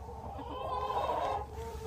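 Chickens cluck and squawk on a farm, a dense flock chorus that rises and swells in the middle, close and steady, with no talking.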